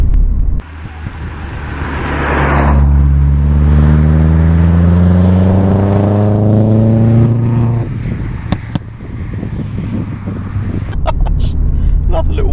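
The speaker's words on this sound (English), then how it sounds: "Love the little wastegate noise every now and then" Opel Astra MK4 turbo car idling and accelerating, engine drone rising in pitch over several seconds, with a brief turbo wastegate chatter and a voice talking over it.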